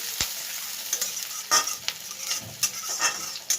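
Onions frying in a pan for egg noodles, stirred with a utensil, giving a steady sizzle broken by several sharp scraping strokes of the spoon against the pan, close and fairly loud.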